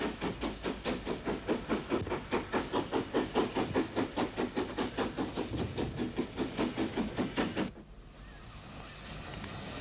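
GNR S-Class steam locomotive No. 171 Sleeve Gullion, in GNR livery, hauls a northbound Warrenpoint–Belfast train: loud, rapid rhythmic exhaust beats close by that cut off abruptly near the end, leaving faint hiss and rumble.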